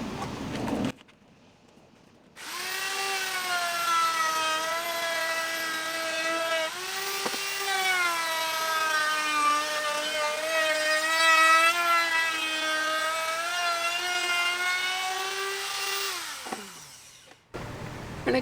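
A router fitted with a round-over bit spins up with a loud, even, high-pitched whine and holds it for about fourteen seconds while rounding a wooden edge, then winds down and cuts off.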